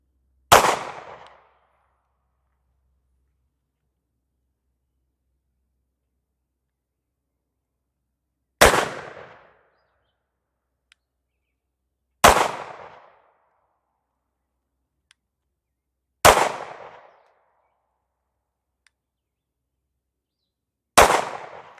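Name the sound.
22 WIN Mag gunshots, jacketed hollow point 40 grain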